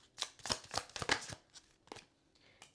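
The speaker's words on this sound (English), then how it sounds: "Let's keep shuffling." Tarot cards being shuffled up close, a quick burst of riffling flutters followed by a few slower, softer slides, with no talking.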